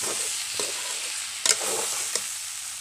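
Jackfruit sizzles softly in a pan while a utensil scrapes and clinks against it a few times, close up, with no speech.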